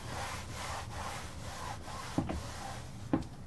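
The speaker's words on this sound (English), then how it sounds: "Grab one more wet one. And this is just to clean some of the silicone off." A wet wipe rubs silicone off a surface in soft, repeated strokes that are faint and close. Two small taps are heard near the end.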